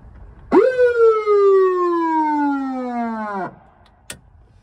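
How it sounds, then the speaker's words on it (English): A Federal Signal siren on a 1969 Plymouth police car gives one loud, close wail that rises sharply, holds a long tone drifting slowly downward for about three seconds, then cuts off, followed by a brief click. "It's the siren."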